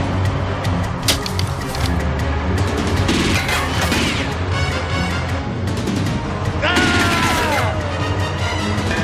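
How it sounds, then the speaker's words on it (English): Loud continuous cinematic explosions and crashing booms with rumbling debris and chaotic bursts, dense and sustained throughout. "Here come the explosions."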